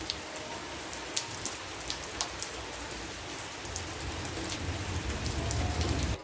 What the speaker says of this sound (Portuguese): Ó, a chuvinha, como é que tá.